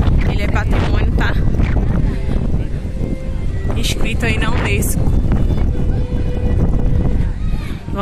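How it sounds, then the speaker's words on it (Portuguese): Strong gusty wind at Belém Tower on the Lisbon waterfront buffets the microphone with a constant loud roar throughout, while someone talks over it. "Aqui o vento realmente está muito forte."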